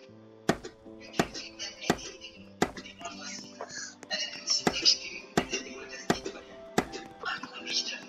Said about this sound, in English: I'm gonna chop some of the wood